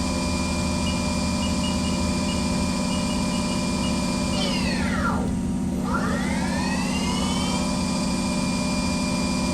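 A HAAS TL-1 CNC toolroom lathe spindle spins at 2,000 RPM, its top speed, giving a steady, loud machine hum with layered tonal whine, briefly dipping and rising in pitch midway through.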